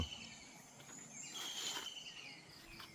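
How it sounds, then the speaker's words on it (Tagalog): Birds call and chirp over a steady flowing-water wash on a morning at a farm resort in Norzagaray, Bulacan, with insect-like trills mixed in, moderately soft and continuous with no talking. "Puro marinig mo huni ng ibon. Tsaka lagaslas ng ilog."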